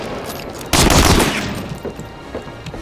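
Gunfire bursts out at close range in Medal of Honor: Allied Assault Breakthrough, a loud sustained volley that trails off into scattered quieter shots and combat noise.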